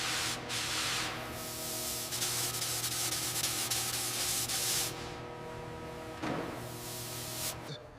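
Sanding on the metal bodywork of a 1959 Cadillac Eldorado Biarritz under restoration, a steady close abrasive rubbing hiss with a few brief pauses and surges, alone without talk.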